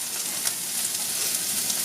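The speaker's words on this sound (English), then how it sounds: "So that's just going to go into boiling water." Cauliflower and broccoli tip into a pot of boiling water, giving a steady close hiss and bubbling with faint clicks and no talk.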